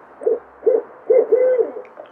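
Barred owl hooting call of several low, rounded hoots, the last one drawn out, heard clearly and fairly close with no other sounds around it.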